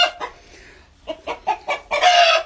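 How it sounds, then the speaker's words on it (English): Chickens in a backyard flock cluck close by in a series of short, sharp calls that rise into a louder, drawn-out squawk at the end, with no talking. "We have so many chickens."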